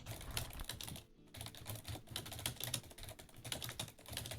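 Rapid, loud computer keyboard typing clatters steadily throughout, the keys struck close up in quick irregular bursts with a brief pause near the start.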